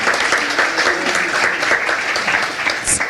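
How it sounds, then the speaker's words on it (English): Steady, dense applause from an audience at a public discussion on city homelessness policy, filling the room evenly and continuing without a break. "how about a round of applause for that?"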